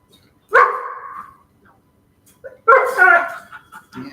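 Two loud, close barks or yelps ring out about two seconds apart, each a short burst with a little trailing tail, with quiet between them.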